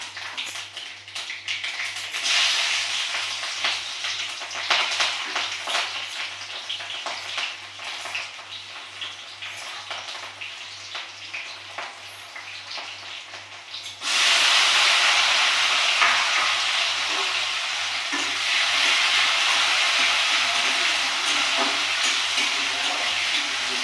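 Ghee heats in a pan with a soft, continuous crackle that jumps to a louder, denser sizzle partway through, heard close and without talk.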